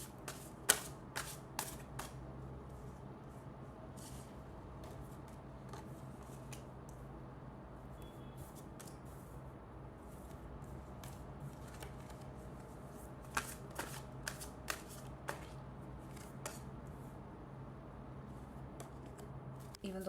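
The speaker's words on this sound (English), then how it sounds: "Let me pull out the tarot for you first." Tarot deck shuffled by hand, soft continuous riffling with scattered crisp card snaps, clustered at the start and again near the middle, quiet and close over a low room hum.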